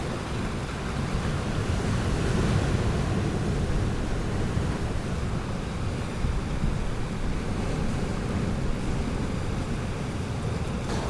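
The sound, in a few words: ocean waves on the coast of County Kerry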